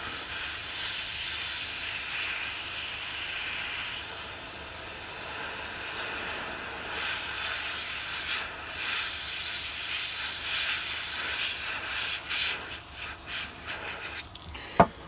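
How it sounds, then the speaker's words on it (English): An airbrush compressor and its airflow hiss steadily during model painting, a broad continuous whoosh with shifting texture toward the end and a sharp click near the close, heard alone. "I'm going to turn the compressor off now."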